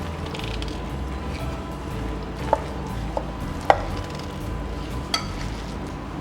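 Corn fritter batter with flour, baking soda, Scotch bonnet peppers and corn kernels being stirred in a bowl: quiet scraping and soft stirring with a few sharp clicks of a utensil against the bowl.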